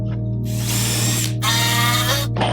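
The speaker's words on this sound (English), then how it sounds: "Do my pre-drill here." A power drill pre-drilling wood for garden boxes whirs in two bursts, close and loud, its motor pitch rising and falling with a ratcheting grind between runs.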